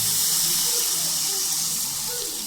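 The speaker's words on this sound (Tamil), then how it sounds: "புளி கரைசலை சேர்த்துக்கலாம்" Tamarind extract is poured into a village-style brinjal kara kuzhambu (eggplant curry). It makes a steady, close, splashing gush of liquid that runs evenly for a few seconds and tapers slightly, with no talk.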